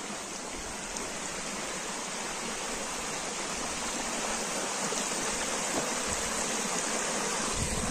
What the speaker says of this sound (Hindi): ये नेचुरल पानी है जो पहाड़ से निकल रहा है झरने का, उसी की साउंड है